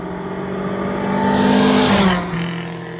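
A Datsun 1200 SSS replica drives around town, its engine note rising as it accelerates past close by, peaking then easing off over a few seconds with no talk.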